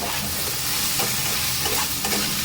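Salt, cumin powder and coriander powder are stirred into a spicy pan of potatoes with snails, giving a steady close sizzle with soft scraping of the spoon throughout.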